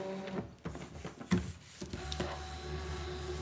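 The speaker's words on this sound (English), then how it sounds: "I just want to get this machine cutting." A Brother ScanNCut cutting machine at work, a steady mechanical motor whir with shifting tones and a few clunks as the carriage moves, close and fairly quiet, with no talking.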